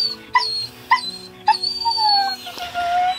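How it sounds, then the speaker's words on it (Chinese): A dog whines and whimpers in repeated high, wavering cries, three sharp yelps followed by a drawn-out plaintive whine, close and fairly loud inside a camper van on a rainy day. "你快起来了，半姐叫的不行了"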